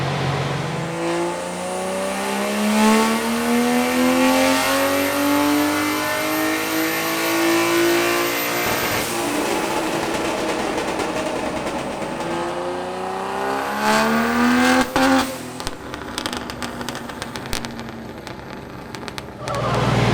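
Barra-swapped Ford GT350 engine screaming up through the revs on a dyno, rising harmonics climbing steadily then a second pull near the end with popping and crackle, loud and close with no talk.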